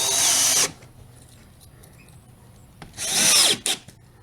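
Power drill driving screws into a drywall patch, two loud whirring bursts close by, the first about half a second long and the second about a second later, with a short final blip and quiet gaps between.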